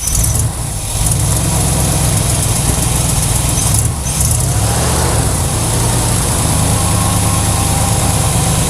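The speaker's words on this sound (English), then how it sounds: "It's idling." A Dodge Power Wagon truck engine, revived after sixteen years, idles steadily with a constant low rumble, briefly dipping twice before settling back into an even, continuous hum.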